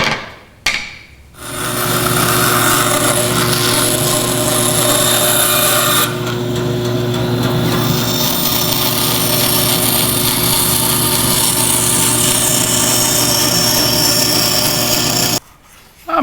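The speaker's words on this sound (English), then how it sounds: "I'm going to take these over to the bandsaw and I'm going to start cutting them out" A bandsaw cuts wooden transom planks for a Whitehall wherry, a loud sustained whine with a steady motor hum. The blade rises in pitch as it runs free between cuts, and the machine cuts off near the end.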